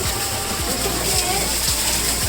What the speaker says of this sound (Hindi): ये जो देख रहे हो ना, यहाँ से आ रहा है पानी,